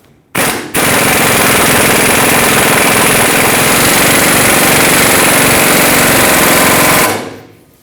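Loud, continuous rattling hammering of an impact tool pressing a ball joint into a 2011-2016 Ford F-350 track bar, one sustained burst of about six seconds after a short start.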